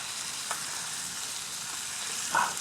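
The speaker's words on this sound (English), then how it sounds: "Now we're sizzling." Taco filling with garlic and jalapeños sizzles in a pan over a campfire outdoors, giving a steady broad hiss with a couple of brief crackles and pops, close and alone.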